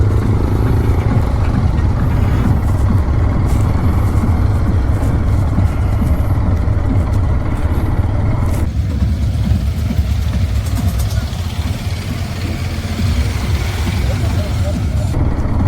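A white TVS Apache RTX 300 motorcycle engine idles and revs loudly and steadily at close range amid busy event crowd noise, with people talking over it throughout.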